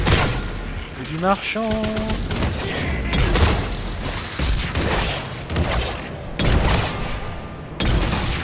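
Heavy gunfire tears into robot enemies in Mass Effect 3 multiplayer: dense, continuous bursts and booming impacts fill the whole stretch, with a French voice speaking briefly over the din.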